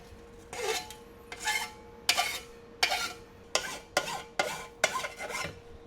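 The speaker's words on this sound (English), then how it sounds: "I'm just gonna hit it with a file." A hand file rasps across a 6-inch exhaust pipe on a 5th-gen RAM 2500 diesel, with about eight separate scraping strokes coming faster toward the end, close and fairly loud over a quiet background hum; no talking.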